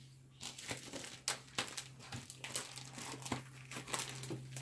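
A paper envelope is handled up close: quiet, irregular crinkling and rustling with soft crisp bursts, alone, over a low steady hum.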